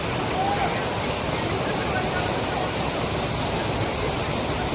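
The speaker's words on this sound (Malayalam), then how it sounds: "അതിരപ്പള്ളിക്ക് അടുത്തുള്ള വെള്ളച്ചാട്ടം." A waterfall at Pillappara near Athirappilly, where people bathe, produces a dense, unbroken roar of falling water that fills the scene evenly from start to finish.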